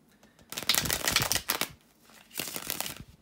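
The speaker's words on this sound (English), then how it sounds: "to shuffle the tarot cards" Two bursts of crisp tarot card shuffling, a dense riffling flutter lasting about a second each, separated by a brief pause, close and fairly quiet.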